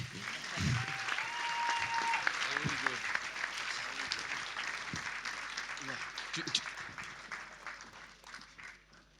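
Audience applause at the Cérémonie des Renards 2024, a French awards ceremony: sustained clapping from a seated crowd that builds quickly and then slowly fades out, with a few scattered voices and cheers over it.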